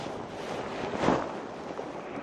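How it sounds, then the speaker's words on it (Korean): Strong wind buffets the microphone on a seaside shore during light-tackle rockfish fishing, a steady rushing roar that swells briefly near the middle and carries no talk. "바람이 좀 많이 불고 있는데"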